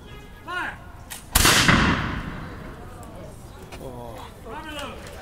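A loud musket volley fired by reenactors in 1775-style drill at Bunker Hill, one booming crack that rolls off into a long echo, with commands shouted before and voices after.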